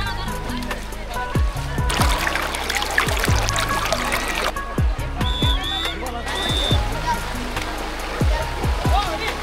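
Water pours steadily at Lakmachhara waterfall, a constant rushing wash heard beneath busy chatter from a crowd of visiting tourists.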